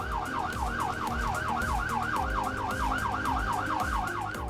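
A wailing emergency ambulance siren sweeps rapidly up and down in a fast continuous yelp, loud and steady, over the low rumble of a moving vehicle, with no talking.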